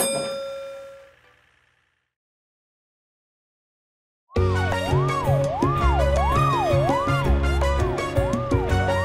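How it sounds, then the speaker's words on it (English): A bright chime fades out, then after a pause a loud wailing cartoon ambulance siren rises and falls repeatedly over upbeat children's music. "is an ambulance. She races to emergencies to get the people to hospital"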